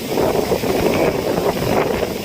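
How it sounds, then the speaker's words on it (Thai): Steady, loud wind and rain at a fishing pond, rushing and buffeting the microphone with a constant wash. "มาจากทั้งฝนทั้งลมครับ"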